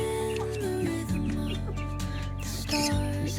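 Chicks and older hens and roosters in a home coop, soft clucks and chirps scattered through a strong steady hum and tonal background noise, with no talking.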